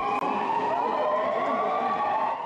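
Sirens wail steadily across Belgium at the start of the national minute of silence on a day of mourning, a continuous rising and falling tone that stays loud throughout.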